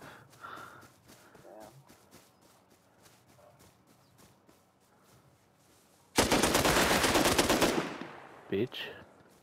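AK rifle gunfire in Rust Console Edition: quiet rapid shots and footsteps, then a loud burst of sustained automatic fire near the end, followed by a couple of short bursts.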